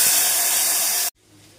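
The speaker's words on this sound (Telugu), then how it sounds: "తాలింపు బాగా వేగిపోయింది టైంలో మనం పప్పు పులుసు వేసుకుందాం" Dal pulusu stew poured into hot tempering, bursting into a loud, steady hissing sizzle that cuts off abruptly, leaving a quiet simmer.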